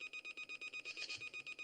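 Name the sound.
spaceship emergency alarm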